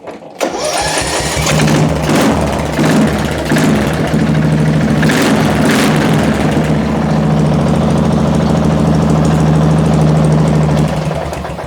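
A rebuilt small engine with a honed bore pulls over and starts, then settles into a steady, loud running drone with a slight rise in pace before easing off at the end.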